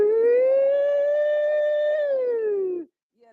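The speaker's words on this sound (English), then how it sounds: "That siren when a hurricane or a storm coming." A single steady siren wails loud and close, holding one rising tone before sliding down and cutting off abruptly.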